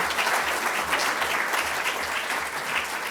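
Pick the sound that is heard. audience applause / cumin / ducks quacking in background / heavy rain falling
audience applause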